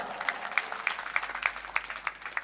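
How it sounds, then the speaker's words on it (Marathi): An audience at a devotional kirtan gathering claps in steady unison, sharp evenly spaced claps roughly three per second with a faint ringing edge, moderately loud over a quiet room. "जरा जोरात टाळ्या वाजवा."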